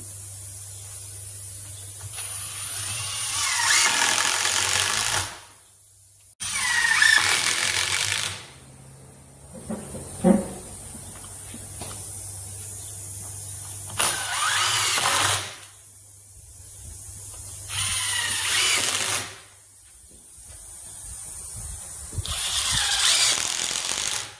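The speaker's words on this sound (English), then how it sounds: "always put a screw in over here too." Screws being driven into wood while assembling a horseshoeing stock, several loud bursts of a power driver whirring close by, separated by short pauses.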